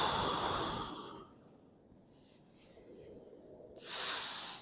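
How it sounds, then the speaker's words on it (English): Deep breathing during kids' yoga on a beach, a loud long inhale at the start and another at the end, separated by quieter surf-like background. "take a big deep breath"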